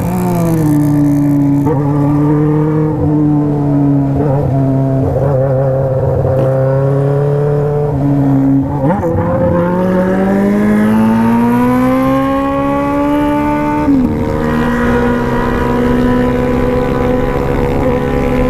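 A Honda Titan 130 motorcycle fitted with a delivery box rides fast, its loud, close engine droning steadily while the pitch climbs and sags through repeated gear changes and revs, with no voices.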